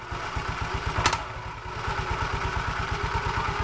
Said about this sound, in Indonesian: saya hidupkan dulu mesinnya ya